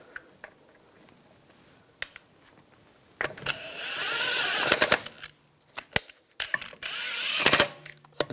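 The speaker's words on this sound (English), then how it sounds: "Put the wheel on. Just line it up. Get the lug stud started." Lug nuts are threaded by hand onto the wheel studs of a 2001-2006 BMW 325Xi, giving a few light metallic clicks and then two longer stretches of spinning, ratcheting metal scraping with sharp taps in between.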